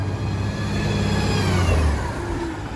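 BAE hybrid-drive transit bus on a Montreal route, heard from inside as a steady rising transmission whine over low engine and road rumble, close and continuous for a few seconds.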